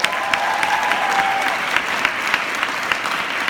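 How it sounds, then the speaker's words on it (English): A conference audience applauds its coaches with dense, steady clapping. The applause holds at an even level for the whole stretch, with a few sharper claps standing out and no talking over it. "let's give them one more round of applause real quick"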